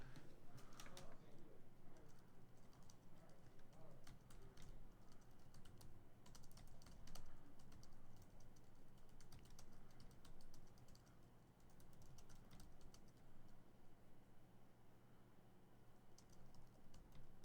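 Rapid, uneven clatter of typing on a computer keyboard while entering a short description into a website form, faint and close, with a voice speaking softly alongside.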